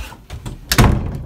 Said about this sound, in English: closes the door